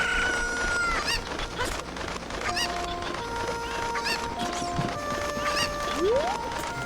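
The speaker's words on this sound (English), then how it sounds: "I was going to say, I hear the last chicken." Chickens cluck and crow in Kakariko Village in The Legend of Zelda: Ocarina of Time, with repeated bird calls over a busy layered game soundscape and music, fairly loud and with no talk.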